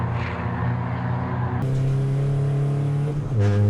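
Ford Focus race cars at Silverstone National circuit in a Focus Cup championship race, engines roaring steadily close by and sharply changing pitch as they shift gears along the straight.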